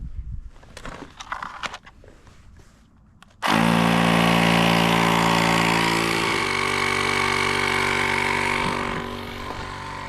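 A small USB-charged portable tire compressor starts abruptly and runs as a loud, steady buzzing motor drone with a strong tonal hum, after a quieter stretch of handling noise; it continues to the end with a slight drop in level.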